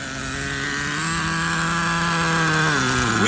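An old, stock Traxxas T-Maxx 3.3 nitro RC truck running an extremely rich mixture gives a loud, sustained high-pitched engine whine whose pitch wavers and dips near the end.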